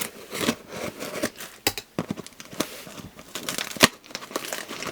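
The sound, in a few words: cutting stickers with scissors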